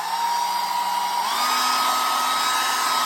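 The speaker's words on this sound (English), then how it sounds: "And I'm going to get the hair dryer." A hair dryer blows a steady, close, loud whine and rush of air as it dries wet paint, with a slight shift in pitch partway through.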